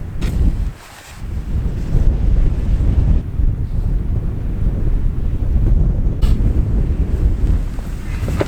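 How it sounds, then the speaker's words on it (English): Strong coastal wind buffets the microphone in a steady, loud roar with gusty swells, and surf rumbles underneath throughout. "it is starting to get quite windy now"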